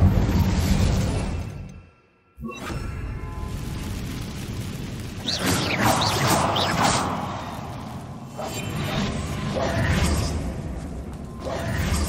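The Incendio fire spell is cast in Hogwarts Legacy, bringing a loud whooshing burst and a roaring rush after a brief drop to near silence, then a sustained fiery swell with mechanical clatter running through it.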